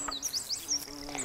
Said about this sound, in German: Unsere Biene steuert also am heutigen Tag ausschließlich Apfelblüten an.